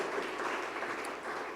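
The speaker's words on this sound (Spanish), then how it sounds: "¿Cuánto le dan un aplauso al Señor?" Church congregation applauding during a Spanish-language sermon, a steady dense wash of clapping at moderate distance, sustained without pause and with no talk over it.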